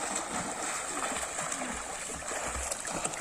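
Water splashes steadily from people swimming, a continuous churning spatter with a few louder slaps, fairly close.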